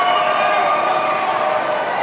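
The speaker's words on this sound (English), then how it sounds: "The crowd roars their appreciation for that fight number 1" A boxing arena crowd roars after a fight, a dense, loud wall of cheering and clapping that holds steady throughout.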